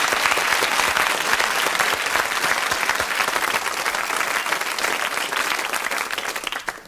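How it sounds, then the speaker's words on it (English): A dense, steady round of applause from a crowd, loud and sustained throughout, tapering off at the very end. "Round of applause."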